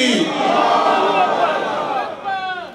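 A mosque congregation at a religious gathering shouts a loud, sustained collective response to a chant, voices swelling together for most of the moment before tapering off, with a few raised voices trailing at the end.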